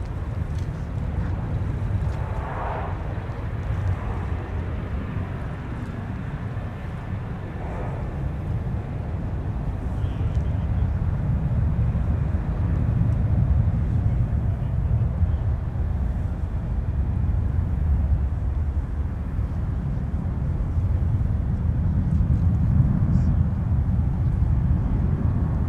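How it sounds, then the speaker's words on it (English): A Delta Airbus A350 airliner arrives at Minneapolis–Saint Paul airport, a broad low jet roar that builds slowly and stays steady and distant, with no talk over it. "Delta's newest Team USA 350 now arriving from Seoul, South Korea, in command of Delta 170 Heavy."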